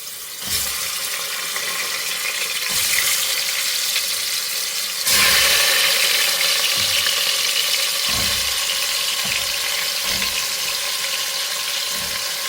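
Mutton hits hot oil in a pressure cooker and fries with a loud, steady sizzle that swells partway through, interrupted by occasional dull knocks and stirring sounds.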